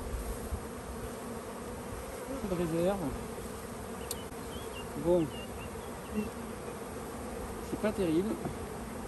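Honeybees hum steadily around a small colony opened for a spring hive inspection, a close, continuous buzz with a few brief louder passes, while someone talks quietly over it.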